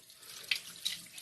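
Tap water runs steadily into a sink while a reusable makeup pad is rinsed, a close continuous splashing hiss with small surges of splatter.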